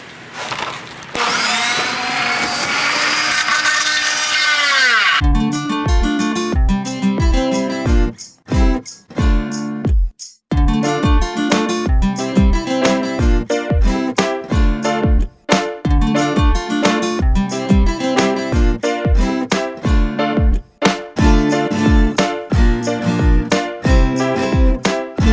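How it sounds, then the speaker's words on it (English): A power drill cuts divots and drives screws into a dhol drum shell to fasten the flange, a loud whining spin that gives way to rapid, rhythmic ratcheting pulses with brief pauses between runs, close and without talk. "I'm going to put in the last 2 divots for the last 2 screws"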